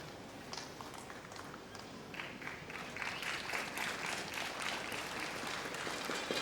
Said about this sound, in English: Crowd trying to pump up Ishikawa, saying it's okay with applause.